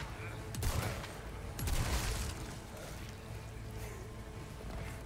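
A riot gun shotgun fires in Resident Evil 4 Remake: two loud, booming blasts about a second apart, each with a rumbling tail over steady game background noise.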